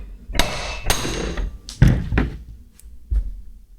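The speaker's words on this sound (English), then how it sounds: "That was just a bolt coming off there that I had sitting on the ground." A metal bolt from a Razor scooter drops onto the ground beside the work area, producing several sharp clanking impacts and thuds in quick, irregular succession, close and fairly loud.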